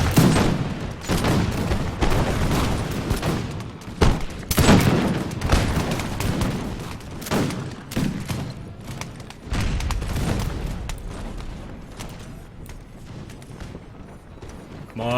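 Soldiers firing musket volleys in the historical strategy game Imperial Splendour: dense, continuous rolling gunfire with booming reports that pile up over the whole stretch and thin out toward the end, loud and without talk.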